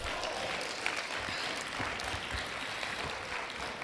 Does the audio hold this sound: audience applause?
yes